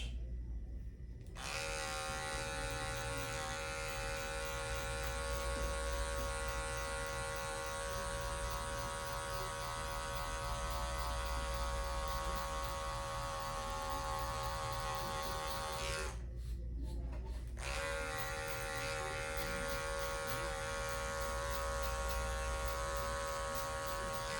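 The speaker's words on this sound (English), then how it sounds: "we're going to take our number 0 guard, our half, and we're going to put that on, and we're going to close the clipper all the way" An electric hair clipper fitted with a number 0 guard runs steadily in a close, even buzz for about twenty seconds, cutting out briefly once before resuming.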